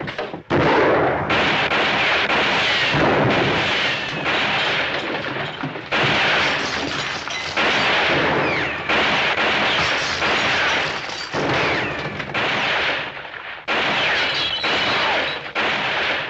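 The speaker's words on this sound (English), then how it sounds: "somebody's shooting at somebody" Gunfire in a western TV show, loud volleys of shots ringing out almost continuously, heavy and close, with brief pauses between bursts and no talk.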